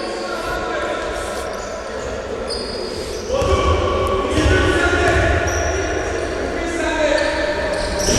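A basketball bounces repeatedly on an indoor court as a player prepares a free throw during a game, heard under steady arena crowd noise and commentary.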